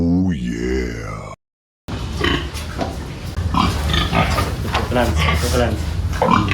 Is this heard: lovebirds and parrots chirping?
no